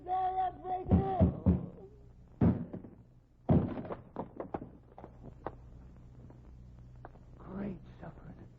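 Door being forced open in a radio drama: heavy thunks and knocks in bursts, with voices speaking briefly at the start and a scatter of lighter impacts and knocks afterward.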